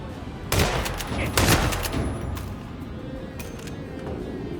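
Two loud shotgun blasts fired in Hitman Freelancer, close together near the start, followed by a quieter stretch of game ambience.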